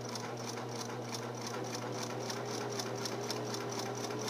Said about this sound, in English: to back stitch, you hold in your push button reverse and then let it go to go back forward again